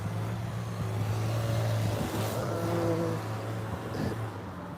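A car passes by near the corner of a building, a moderate engine hum that swells and fades amid steady background traffic noise.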